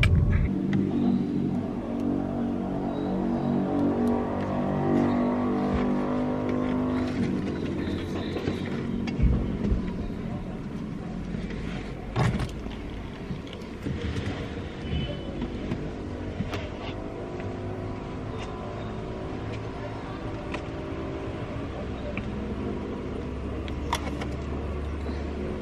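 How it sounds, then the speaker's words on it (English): Road traffic with cars passing, a steady rumbling drone of vehicles rising and fading at moderate distance, with occasional louder passes and no talk. "Yeah, but there's traffic."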